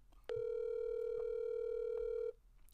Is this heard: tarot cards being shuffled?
no